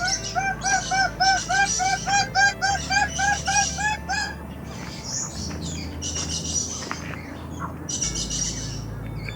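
Birds call in Port Moresby, Papua New Guinea, with repeated bright chirps and squawks in a regular rhythm at first. Scattered tweets follow over a steady low background hum.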